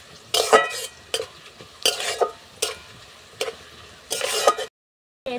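Ajwain seeds stirred into oil in a pan, heard as several separate bursts of spoon scraping and light sizzle with quiet gaps between them, close by, then a short silence.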